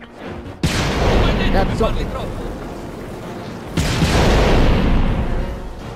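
Gunfire in the video game Dead Rising 4, a loud, dense burst of shots that starts abruptly and then swells again later, with someone talking over it.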